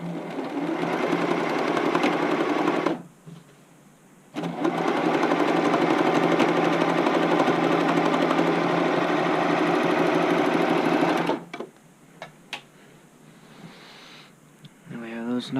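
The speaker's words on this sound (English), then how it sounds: "And serge both of these real quick." A serger overlock sewing machine stitches fabric edges while sewing an upcycled button-up shirt, running in two long, loud, steady bursts with a short pause between and quieter handling sounds after.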